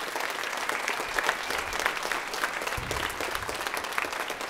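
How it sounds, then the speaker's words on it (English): Audience applause fills a high school spring choir concert, a steady, dense wash of clapping that holds evenly for several seconds with no voices over it. "So give a round of applause for Mr. and Mrs. King."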